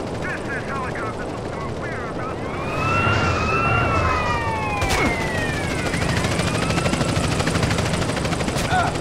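In the GTA San Andreas video game, a police helicopter's rotor chops steadily while police sirens wail and sweep in the background, with voices talking over the scene.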